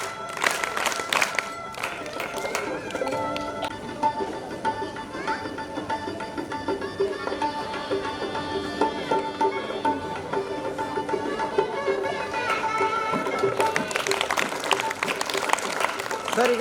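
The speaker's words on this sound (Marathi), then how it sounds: "3 टप्प्यात टाळ्या वाजवायच्या सर्व विद्यार्थ्यांना" Students at a school lecture-series event applaud together to welcome a guest, a dense, sustained crowd clapping that runs for the full stretch with voices mixed in.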